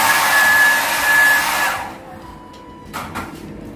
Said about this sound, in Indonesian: Di sini ada hairdryer.